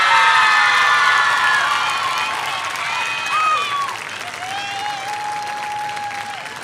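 A crowd at a high school homecoming football game applauds and cheers, with whoops and shouts over dense clapping that fades somewhat midway, while a few whistles and voices stand out.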